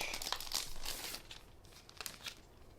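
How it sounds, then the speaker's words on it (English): Plastic packaging crinkles and rustles as a BetterPress wallflower press and foil plate are unwrapped, a close, quiet flurry of crumpling that thins out into a few sparse crackles. "we're going to get our wallflower press and foil plate out of the package"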